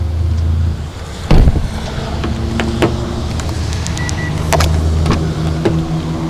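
Power windows on a 2013 Hyundai Elantra Limited running, a steady motor whir inside the car with a couple of thumps and clicks as the glass moves and stops.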